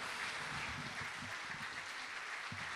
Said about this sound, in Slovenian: še enkrat aplavz za Marka Gostenčnika